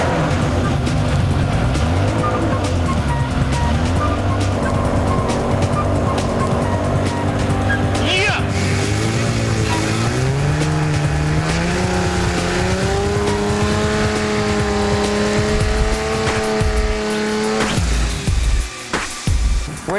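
A 1000 hp Toyota Supra engine runs loud and close on its first startup, with a rough idle building into rising and falling revs and sustained throaty roars before the note drops away at the end.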